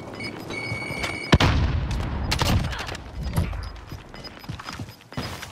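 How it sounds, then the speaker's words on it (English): A grenade detonates in Call of Duty: Warzone, a sharp loud bang followed by rumbling debris and scattered gunfire cracks amid chaotic battle noise. "Grenade out!"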